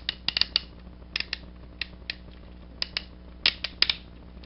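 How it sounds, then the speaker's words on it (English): Joints of the Walmart-exclusive Ultra-class Decepticon Skyfall Transformers toy being moved, producing crisp plastic ratcheting clicks in short irregular clusters, close and clear, with no talking. "you could hear, as I was transforming him, how very ratcheting all these joints are"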